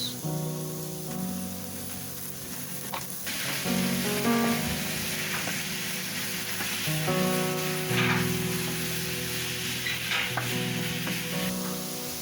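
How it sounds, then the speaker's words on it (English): Minced meat and grated carrot sizzle steadily in a hot pan, a continuous loud frying hiss with occasional stirring scrapes, while faint background music plays throughout. "Then now we are going to add our minced meat."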